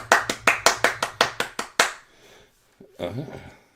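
A short burst of about nine sharp live hand claps in a steady rhythm, close and distinct, stopping abruptly, followed by a pause and then a voice speaking.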